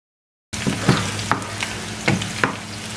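Sliced onions and five green chillies fry in a pan for masala dal curry. A steady close sizzle starts abruptly after a brief silence, punctuated by several sharp spatula scrapes.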